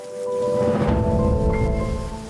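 Rain with a low rumble of thunder swelling in the middle, loud and close, with faint sustained tones underneath.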